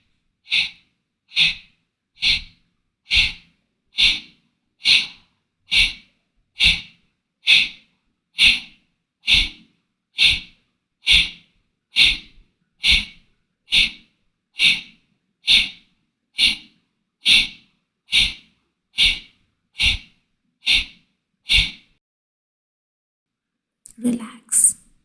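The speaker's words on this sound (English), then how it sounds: "Breathing will be constant exhalation." Steady yoga breathing with forceful exhalations, about twenty sharp, evenly spaced nasal puffs in a regular rhythm, loud and close, ending in a pause and a brief softer breath.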